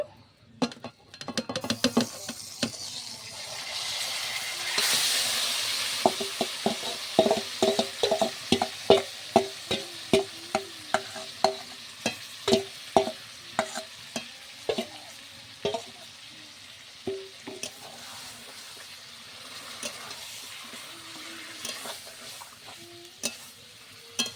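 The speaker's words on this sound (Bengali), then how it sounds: "তেলটা গরম হয়ে গিয়েছে, এবার দিয়ে দেব ম্যারিনেট করে রাখা মাংসটা।" Marinated chicken pieces fry in hot oil with cloves, cinnamon and cardamom for butter chicken, making a continuous sizzle punctuated by a long run of regular metallic scrapes and taps as a spatula stirs the pan.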